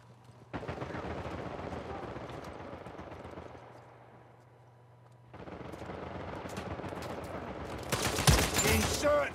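Gunfire in the Uncharted 4 online multiplayer team deathmatch, sustained rapid bursts of automatic fire with a brief lull, then louder sharp shots near the end, with players talking over the action.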